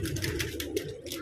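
Pigeons coo in low, rolling murmurs close by, a brief continuous burble with some faint background noise and no clear talk.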